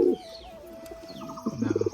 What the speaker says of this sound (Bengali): দুটোই বড় বড় সাইজের পায়রা বন্ধুরা